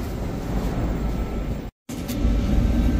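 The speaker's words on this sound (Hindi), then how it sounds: "अभी आ गई है और हमें भी इसी मेट्रो में जाना है" A Moscow metro train arrives at a station with a loud, continuous rumble that cuts out for a moment and then returns even stronger.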